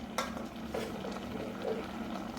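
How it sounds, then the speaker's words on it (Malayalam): Jackfruit and its fleshy rind are stirred into jackfruit avial in a cooking pot, a continuous scraping and mixing sound over a low steady simmer, close and moderately loud. "ഒന്ന് നന്നായിട്ട് മിക്സ് ആക്കുവാണേ"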